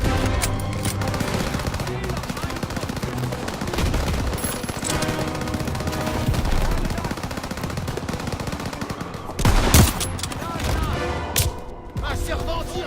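Dense machine-gun fire and rifle shots fill a WWII battle in the Call of Duty WWII video game, with a loud blast near the middle. Voices shout orders over the constant shooting.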